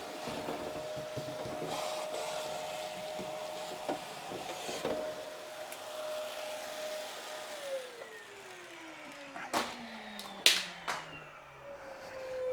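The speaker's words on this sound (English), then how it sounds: "I'm just going to quickly hoover out the rest of the glass that fell down inside." A vacuum cleaner whines steadily, then winds down with a falling pitch; sharp rattling clicks follow as broken glass fragments from inside a car door get sucked up near the end.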